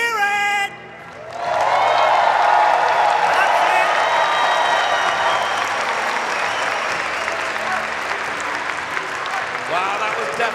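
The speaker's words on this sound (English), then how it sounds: "let's give them all one final round of applause" A crowd at the Pokémon Europe International Championships in London bursts into loud, sustained applause with cheers and whoops, after a short moment of a voice speaking.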